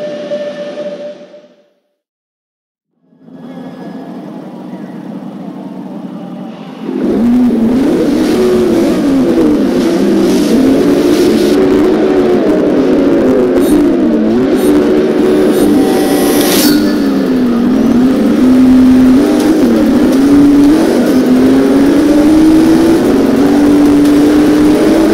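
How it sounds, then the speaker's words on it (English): Ford GT supercar from 2017 driving through city streets in Forza Motorsport 6, its engine droning steadily and loud with rising and falling revs after a brief quiet start, no talking. "I'm here to give you your first look and first drive of the spectacular 2017 Ford GT"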